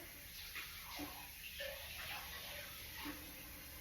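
Celery stalks are washed in a bowl of water, with a steady close hiss of running water and soft splashes as each stalk is rinsed.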